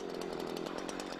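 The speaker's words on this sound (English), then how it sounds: "There are some basic rules for using a chainsaw." A Husqvarna chainsaw runs steadily at high revs, a loud, close, continuous buzzing drone with a slight rhythmic pulse and no talking.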